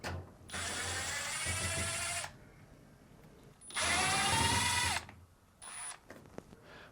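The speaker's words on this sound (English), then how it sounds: "Now remove the two Phillips screws." A power drill backs out Phillips screws on a Fisher & Paykel dryer, two sustained whirring runs of a couple of seconds each, then a brief third burst, close and fairly quiet with small clicks between.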